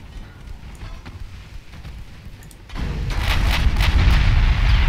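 Naval gunfire and shell impacts in the warship game Ultimate Admiral Dreadnoughts, with big hits and a flash fire on the Virginia: low rumbling booms that swell partway through into a loud, dense barrage of heavy blasts.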